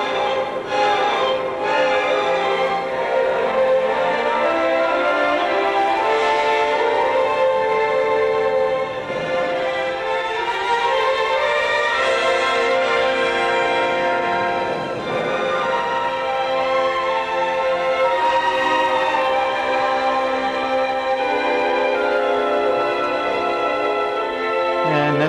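A rechargeable radio tuned to a station plays steady, harmonically rich music or broadcast sound at an even level for the whole stretch, close to the microphone, with no talking over it.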